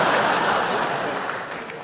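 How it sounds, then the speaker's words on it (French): Comedy club audience applauding and chuckling at a stand-up set, a short burst of clapping that fades gradually. "non, n'applaudissez pas ça, merci"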